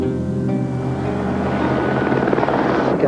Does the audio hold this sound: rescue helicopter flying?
yes